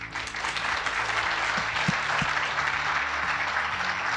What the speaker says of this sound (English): Can we give the Zycus team a round of applause for the beautiful conference that they're putting on?